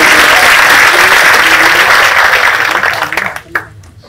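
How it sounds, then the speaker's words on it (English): An audience at a graduation ceremony for an Erasmus Mundus joint programme applauds. Loud, dense clapping from many hands holds steady, then thins out and fades to a few last claps. "Let's take a moment to applaud and wish him the best"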